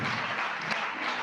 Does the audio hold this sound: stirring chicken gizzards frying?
no